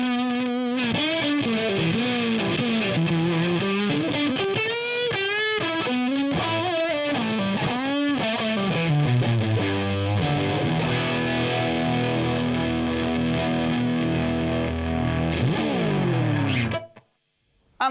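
A Seymour Duncan Fooz analog fuzz pedal with the gain turned up drives a guitar into thick, buzzing distortion, with sweeping, warbling pitch bends and sustained noisy tones that ring loudly before cutting off abruptly.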